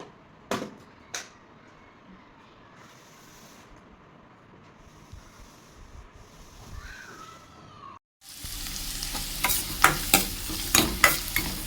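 Okra palya stir-fries in a pan: a quiet room with a few knocks gives way to a loud, continuous sizzle with repeated stirring scrapes.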